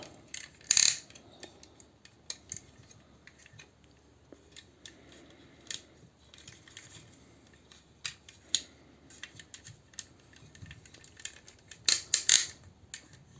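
Plastic parts of a Toyworld Concrete transforming robot toy being folded and shifted, giving scattered light clicks and taps with a couple of sharper snaps near the start and end, close and quiet, no talk.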